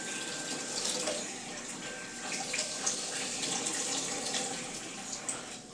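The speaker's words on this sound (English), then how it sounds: "for your sake, I'm just doing warm tap water" Warm tap water runs from a kitchen faucet in a steady, soft splashing stream with small droplet spatters, heard alone while pancakes are prepared.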